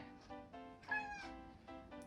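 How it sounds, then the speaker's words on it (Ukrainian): A cat meows several times in a row, close by, with clear drawn-out cries and short pauses between them. "Це моя кішка Міса."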